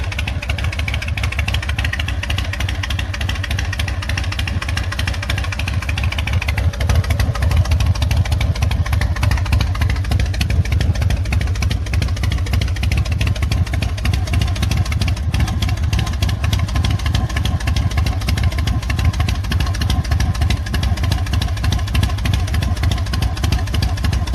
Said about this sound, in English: I run the bike while it's still in the garage and double check for leaks